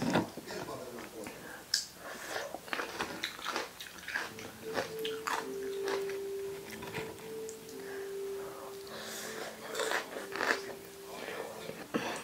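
Crunchy chewing of pounded morning glory salad with fresh rice noodles, close and rhythmic bites and mastication running throughout, with light mouth noises and brief voice sounds mixed in.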